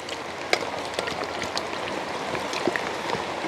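Rain falls steadily outdoors, a soft constant patter with scattered sharper drips and taps landing on surfaces, moderately quiet and close, with no talking.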